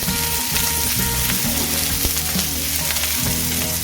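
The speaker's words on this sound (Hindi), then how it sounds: "जिंजर और गार्लिक का पेस्ट अच्छे से तो स्लो मीडियम रख दीजिए" Ginger garlic paste sizzles steadily in a pan over slow-medium heat for a restaurant-style methi malai paneer, a continuous close frying crackle with faint stirring scrapes and no voices.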